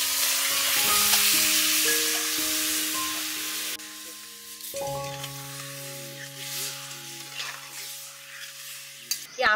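Soft mango pieces cooked with sugar hiss and sizzle as they are stirred in a wok over low heat for a sweet-and-spicy pickle. The frying is strongest at first and eases off, with melodic background music playing throughout.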